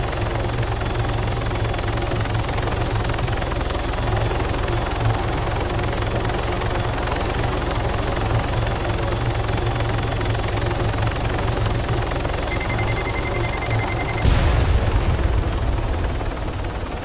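Damaged helicopter in the video game Dynamic Universal War System, its rotors failing: a loud, continuous rumbling drone with a gritty texture, ending in a sudden heavy low burst near the end.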